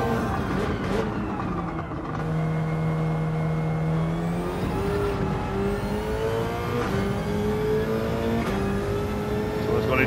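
Car engine in Gran Turismo 7 on a race track, revving steadily with rising and falling pitch as it shifts down into second gear, loud and continuous under a voice.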